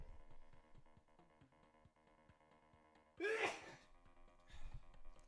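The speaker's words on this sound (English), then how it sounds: "I'm gonna sneeze again." A single sharp, loud sneeze bursts out midway through quiet indoor computer-game background music during a gaming session, followed by a fainter breathy sound.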